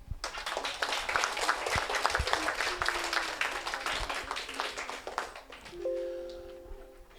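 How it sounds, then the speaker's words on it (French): People at a town hall children's municipal council session applaud, a lively burst of close, crisp individual claps that builds, holds, then tapers off as a faint voice and a brief tone appear near the end. "et donc on les applaudit."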